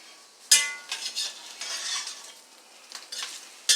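Onions and spices fry for a chili, making a soft, close sizzle. A sharp clink of a utensil on the pot opens the sequence, and scraping stirs follow at intervals.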